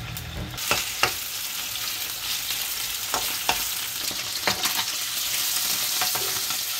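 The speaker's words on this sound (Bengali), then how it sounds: "একটা মাছ ভাজবো।" A fish fries in a pan with a steady, close sizzle. Sharp clicks and scrapes of stirring break through now and then, and no one speaks.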